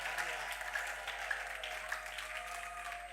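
A church congregation applauds and cheers in praise of the Lord, a dense, moderately loud wash of clapping with a few raised voices calling out over it.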